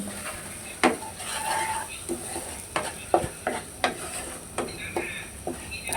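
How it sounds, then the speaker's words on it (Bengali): Spices, dried chilli powder and cumin powder, stirred in a pan to lightly fry, with a soft sizzle under repeated scraping strokes of a utensil, plus a few sharper knocks, close by, with a voice talking at times. "এবার আমি সমস্ত মশলা একটু এভাবে নাড়াচাড়া করে দিয়ে মশলাটা হালকা কষিয়ে নেব"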